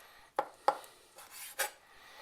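A knife trims excess skin and fat from chicken in a few short, quiet strokes and taps against a board, spaced apart with near silence between them.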